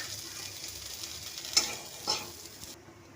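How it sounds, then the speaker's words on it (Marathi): Ginger roasts in a pan for a Holi-special chicken meal, a faint steady sizzle with two brief stirring scrapes midway, then the sound cuts off near the end. "आता आपण हे आलं थोडंसं भाजून घेणार आहे."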